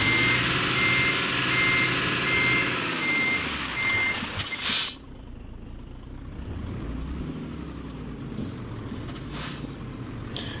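A truck in the Euro Truck Simulator 2 driving game backs up with evenly spaced electronic reversing beeps over a loud engine rumble; a hiss of air brakes releases near the end and the engine idles on alone.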